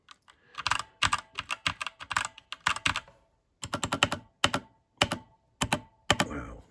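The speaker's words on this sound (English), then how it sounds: "Now I can start typing on it." Typing on a Chromebox CN65 keyboard: close, clicky bursts of rapid keystrokes in short runs separated by brief pauses, with a faint springy ping, no talking.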